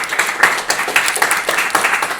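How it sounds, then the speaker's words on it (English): A small group applauds, rapid close clapping with a rhythmic, uneven patter lasting a couple of seconds. "So we give him a big applause."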